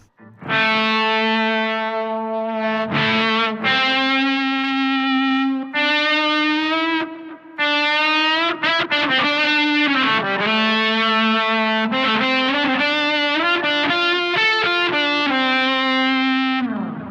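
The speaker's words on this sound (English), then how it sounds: "the theremin setting I have on the Electro-Harmonix POG 2 sounds like, with a bit of delay" A sustained, gliding high-pitched electric guitar tone from an Electro-Harmonix POG 2 theremin setting through a Supro drive, with a theremin-like wavering quality, sliding between notes with echoing delay repeats, loud and continuous.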